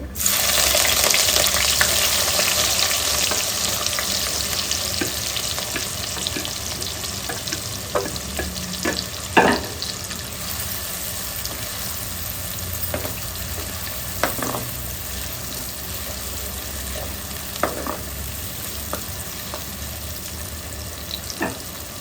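Onions frying with a little salt in a pan after bay leaf, cloves, cinnamon and cardamom, a steady sizzle that is loudest at first and then settles, broken by occasional sharp clinks and stirring scrapes, with no voices.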